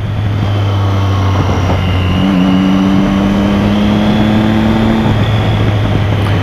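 Honda CB Twister motorcycle engine running at a steady mid-pitched drone, with a second higher tone rising in briefly partway through, loud and close with no talk.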